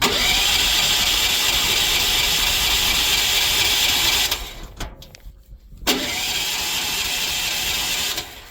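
An engine on a transport vehicle roars loud and steady up close, cuts out briefly with some rattling, then catches again and keeps running.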